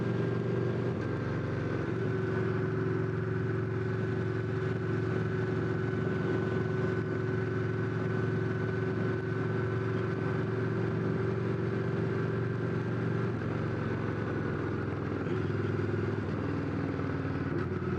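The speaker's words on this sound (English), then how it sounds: "You release the throttle on this thing, it just snorts and rips and sounds all sorts of right." A Victory V92C motorcycle's engine runs in a steady, droning hum, medium loud and even throughout, with slight pitch shifts but no clear revving bursts, and no talk.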